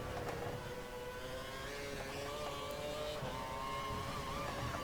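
A Formula 1 race car in F1 2012 at Japan, its engine holding a steady high-pitched whine near full throttle with slight pitch shifts, loud and continuous throughout.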